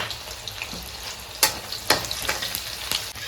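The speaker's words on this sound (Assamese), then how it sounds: "কেঁচা জলকীয়া দি দিছোঁ এইখিনিও ভাজি ল'ম" Onions and green chillies sizzle and crackle in a hot pan, with a few sharp pops and the scrape of stirring over a constant frying hiss.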